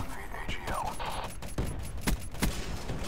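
Gunfire from a weapon in Call of Duty Black Ops 3, with a few sharp shots standing out around the middle and end, set against a busy background of game sounds, mechanical clicks and whooshes.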